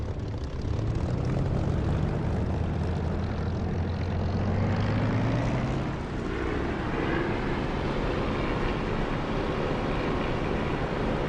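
A propeller aircraft engine in the DCS flight simulator game throttles up, a loud continuous drone with rising tones that grows steadily and shifts in pitch partway through, heard alone without talk.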